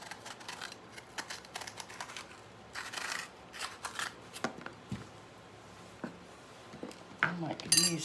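A knife cutting a green pepper on a cutting board, a series of close irregular chops and clicks with scattered sharper taps and faint kitchen clatter.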